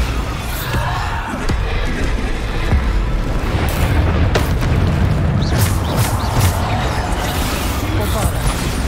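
Bombarda spell blasts go off in Hogwarts Legacy combat, booming bursts and crashes heard over a dense, continuous battle din with voices.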